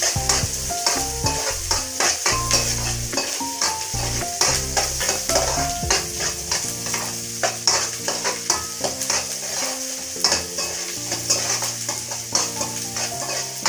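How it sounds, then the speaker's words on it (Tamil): Siru keerai (amaranth greens) are sautéed in a pan until golden, with steady sizzling and repeated scraping stirs over background music. "நல்லா பொன்னிறமாகிற வரைக்கும் நல்லா வதக்கணும்."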